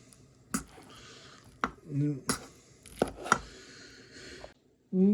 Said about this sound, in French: dans un grand bol, on va hacher les avocats.